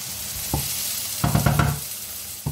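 Courgettes sautéing in a pan give a steady close sizzle, broken by a few sharp knocks and scraping bursts as the pieces are stirred, with no voices.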